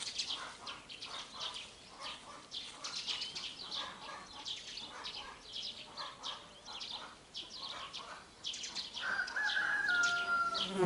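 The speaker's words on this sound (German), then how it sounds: "Hochbetrieb im Hühnerstall." Chickens cluck and a rooster calls in a busy henhouse, with overlapping bird sounds throughout and a clearer, louder call near the end.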